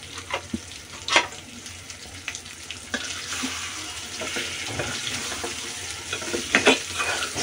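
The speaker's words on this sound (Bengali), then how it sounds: "তেলের উপর 2-3 মিনিট 4 মিনিটের মতো এইভাবে ভেজে নিতে হবে।" Potato curry with ground spices frying in hot oil in a pan, a steady sizzle broken by scraping stir strokes and occasional clinks, close and fairly quiet, with no talk.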